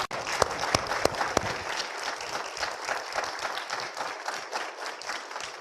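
An audience applauds young musicians at a Holocaust Remembrance Day event, opening with a few sharp, distinct claps before settling into steady, dense clapping that continues to the end.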